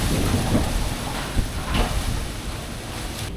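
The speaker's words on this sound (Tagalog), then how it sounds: "Sobrang lakas na ng hangin." Strong typhoon wind roars steadily at close range in Alaminos, with broadband rumble and gusty swells, and brief louder buffets near the start and end, with no voices present.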